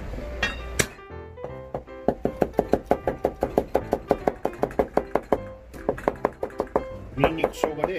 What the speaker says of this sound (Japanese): みじん切り